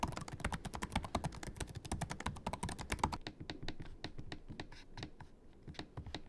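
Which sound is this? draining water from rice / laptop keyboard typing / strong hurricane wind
laptop keyboard typing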